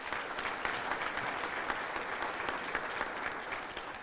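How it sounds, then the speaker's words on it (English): An audience at a State of the State address in Monroe applauds the governor's staff, a dense, steady clapping from many hands held at an even level for the full length, with no voices over it. "Please join me in giving a round of applause to the governor's staff."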